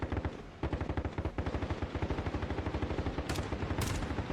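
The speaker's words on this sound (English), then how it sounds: "Kind of just spamming his LMG." Rapid sustained LMG machine gun fire in Black Ops Cold War, steady rhythmic bursts of closely spaced shots, loud and continuous with brief gaps between strings.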